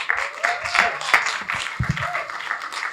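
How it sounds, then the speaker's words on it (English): Audience applause at an academy ceremony honouring a Nigerian traditional ruler, an Oba, with scattered individual claps and moderate clapping from a modest crowd, fairly close and irregular, with a few voices. "Please, once again, a round of applause for His Royal Majesty, Oba Professor Alexander Olusegun McGregor"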